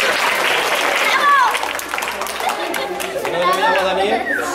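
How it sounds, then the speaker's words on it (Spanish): School children applaud a woodwind music teacher in a school setting, close, lively clapping mixed with excited chatter and children's voices that swells and ebbs over the whole stretch. "Un aplauso para él, por favor."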